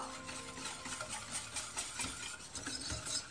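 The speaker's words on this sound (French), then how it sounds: "Donc à feu doux. Je continue toujours à mélanger." A spoon stirs a thickening cream mixture in a pot over low heat while making a Swedish almond cake, giving a steady scraping and swishing that runs unbroken and fairly close throughout.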